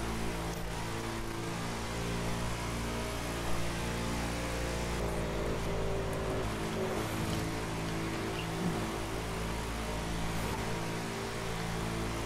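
A Chevrolet's engine in The Crew 2 drones steadily with a strong low hum, revs climbing and dipping as gears change, heard close and alone with no talk over it.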